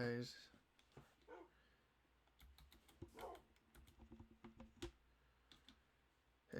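Computer keyboard typing and mouse clicking during Minecraft play, a scatter of quick close taps in irregular bursts, mixed with a voice talking and faint background noise.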